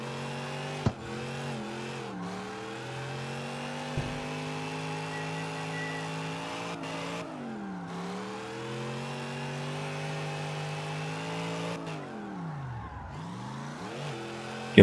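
A Chevelle V8 drift car in the CarX Street racing game revs and wails through gear shifts and clutch kicks, its engine pitch climbing and dropping repeatedly in loud sustained sweeps with brief cuts between shifts.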